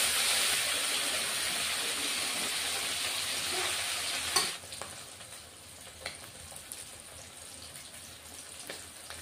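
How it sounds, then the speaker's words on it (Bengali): Pieces of rohu fish frying in a pan of oil give a steady, close sizzle that fades after a sharp clatter midway, leaving lighter crackles and spatters. "মাছ ভাজা আমার হয়ে গেছে"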